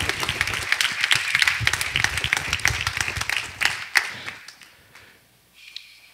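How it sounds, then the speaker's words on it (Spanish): A church congregation claps in praise to the Lord, a burst of lively, close applause that gradually thins out and fades to a few scattered claps. "Un aplauso al Señor."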